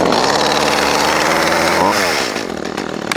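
A small chainsaw runs loud and close, its engine revving high and buzzing steadily, then dropping slightly in pitch toward the end.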